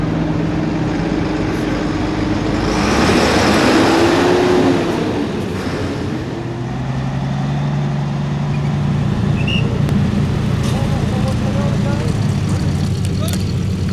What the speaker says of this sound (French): Véhicule militaire tout terrain.